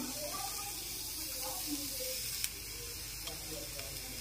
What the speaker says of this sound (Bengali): এখন গ্যাস অন করে কড়াইয়ের মধ্যে নারকেল কোড়া দিয়ে দিলাম।